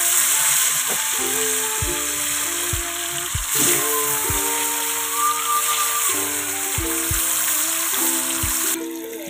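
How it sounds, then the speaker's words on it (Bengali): Katla fish pieces coated with salt and a little turmeric fry in a pan, giving a loud, steady sizzle and hiss that runs throughout with no talking. "খুব অল্প হলুদের গুঁড়ো দিয়ে মাছটা ভালো করে ভেজে নেব"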